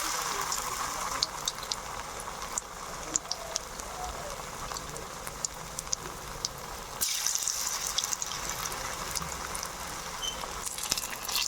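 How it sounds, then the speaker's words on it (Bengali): Ash gourd pitha cakes fry in hot oil with a steady, hissing sizzle and a scatter of small pops, with a brief shift in texture midway. "এদিকে আমি পিঠাটা বেজে নেব।"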